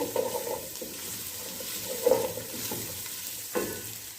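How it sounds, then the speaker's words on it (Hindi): Vegetables with carrots being sautéed in a pan, a soft frying sizzle under repeated scraping stirs that come in distinct strokes about every second or so, close and moderate in level. "आधा मिनट में इसको सौते करूंगी।"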